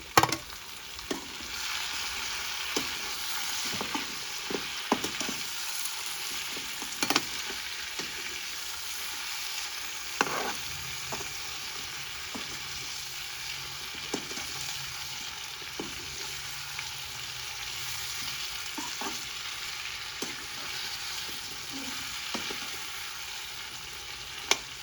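Pumpkin pieces being stir-fried with duck meat in a hot pan, a constant close sizzle with scattered scraping and knocking strokes of the spatula, no talking.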